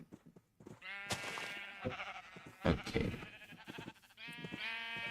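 Sheep in a video game bleat repeatedly, several overlapping wavering cries close and fairly loud, with a brief spoken word between them.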